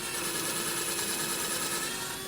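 A cheap Walmart cordless drill, still working after being dropped onto concrete, runs continuously with a steady high motor whine and buzz, loud and close, no voices.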